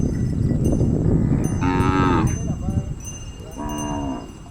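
Desi village cows returning to a dairy farm from forest grazing give several loud, drawn-out moos in close succession, with steady farmyard background noise underneath.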